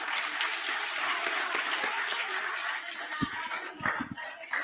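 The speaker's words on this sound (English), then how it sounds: "A round of applause for the team who put this slideshow together." Applause from a congregation at a Sunday morning satsang in a spiritual center, sustained clapping fairly near that thins toward the end, with a few louder individual claps.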